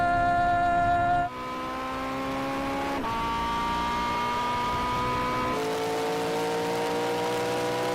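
A McLaren race car accelerates hard on a track, its engine note climbing steadily through gears with brief dips at each shift, loud and close throughout.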